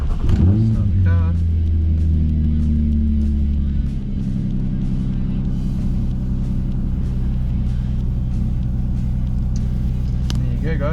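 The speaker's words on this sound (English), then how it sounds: "And start the car." A Nissan 350Z engine turns over and settles into a loud, steady idle with a deep low rumble. A brief dip about four seconds in may mark a small rev change. No one speaks over it.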